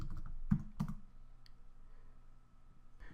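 A few sharp clicks of commands being typed on a computer keyboard while working in a Debian terminal on a BeagleBone Black, three or four close taps spaced out over a quiet room hum.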